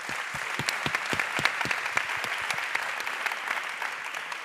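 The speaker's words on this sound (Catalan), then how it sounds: "aplaudiment pels tres" An audience applauds at a panel discussion on artists' rights in the digital environment, with steady, even clapping from a sizeable crowd lasting the whole stretch at moderate level and no voices.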